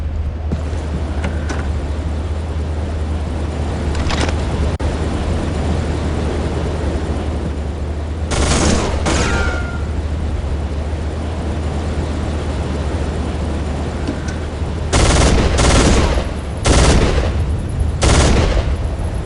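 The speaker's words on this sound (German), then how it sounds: "Ich befürchte, ich muss wieder auf die Rotoren schießen." In the video game Soldier of Fortune 2, gunfire is aimed at helicopter rotors: sharp bursts of automatic shots arrive in clusters over a constant low rotor drone, loud and close with no speech.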